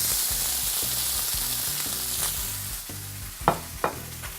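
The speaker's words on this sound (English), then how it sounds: "So here I have a hot pan with 3 teaspoons of olive oil in it, and I have the rice here" Rice hits a hot pan of olive oil and fries with a bright, steady sizzle, followed by a couple of sharper scrapes of stirring near the end.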